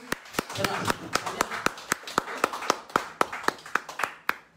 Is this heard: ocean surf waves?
no